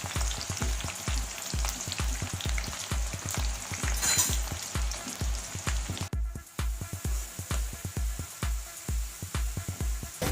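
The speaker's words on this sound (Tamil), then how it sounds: "வதக்கு வதக்குன்னு ப்ரௌன் கலர் ஆகிற வரைக்கும் டீப் ஃப்ரை பண்ணிக்கிட்டே இருக்கும்." Onions deep frying in oil until brown, a steady bright sizzle carried over regular, rhythmic low thumps, with no talking.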